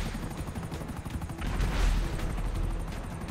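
Rapid gunfire crackles in GTA Online, with dense, overlapping shots and a helicopter drone beneath, swelling louder midway through the burst.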